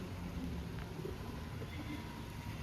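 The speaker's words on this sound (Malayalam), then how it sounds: "ഇവിടെ ഭയങ്കര മഴയാണ്." Heavy rain pouring near the bus stand in Pathanamthitta, a steady dense hiss that fills the whole stretch with no breaks, close and unbroken.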